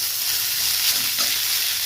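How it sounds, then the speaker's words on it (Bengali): Lemon Maggi noodles with coriander and lemon juice being stirred and lightly fried in a pan, a steady soft sizzle with gentle scraping stirs throughout, close and even, no speech. "নেড়ে চেড়ে হালকা করে একটু হালকা ভেজে নেবো"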